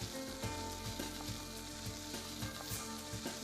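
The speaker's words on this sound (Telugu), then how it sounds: "పోపు ఫ్రై అయిన తర్వాత మనం ఉల్లిపాయ ముక్కలు వేసుకుందాం." Onion pieces fry with a pinch of salt in a pan over a tempering of spices, sizzling steadily up close with rhythmic stirring clicks.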